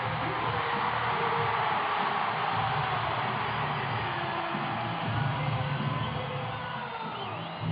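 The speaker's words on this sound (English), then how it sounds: "And listen to the crowd." A large crowd roars at a freestyle motocross event in Mexico City, a dense continuous wall of cheering and noise that stays loud and steady throughout, with a low rumble underneath.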